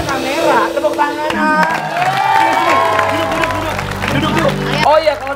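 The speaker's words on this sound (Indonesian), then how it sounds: "Tepuk tangan" Audience on an Indonesian TV variety show clapping and cheering, loud and close, with children's shouts and lively voices mixed through the applause and music-like tones in the background.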